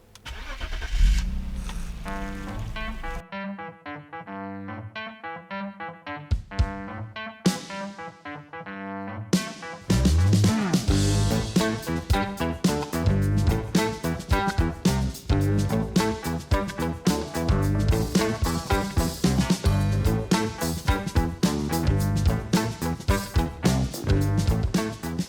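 A 1997 BMW E39 Individual starting up and being driven, the engine catching after a brief crank, then a steady mechanical drone that grows louder and busier as the car pulls away, with no speech.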